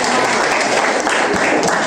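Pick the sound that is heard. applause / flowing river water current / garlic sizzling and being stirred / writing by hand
applause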